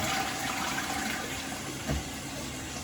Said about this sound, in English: So now we can flush it, and all I'm going to do is just physically lift this part up.